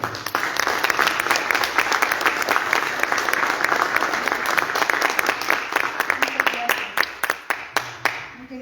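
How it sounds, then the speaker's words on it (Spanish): An audience applauds to welcome a female doctor onto the stage at a Spanish-language speaking event, with dense, sustained clapping across the room that thins into scattered individual claps near the end. "Recibimos por favor con fuertes aplausos a la doctora Mapi Arce Figueroa."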